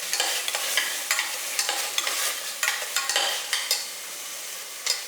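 Chicken pieces with masala and salt sautéing in a pan, a spatula scraping and stirring in repeated strokes over a moderate, steady sizzle.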